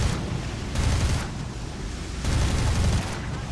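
Sustained gunfire while shooting down an aircraft in War Thunder, a dense roaring burst that swells twice and stays loud throughout.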